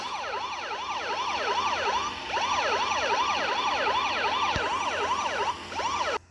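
A fire truck's wailing siren sweeps up and down in a steady, rapid cycle, loud and close, continuing throughout with no voices.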